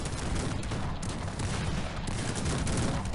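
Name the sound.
cannon fire in the Cossacks 3 video game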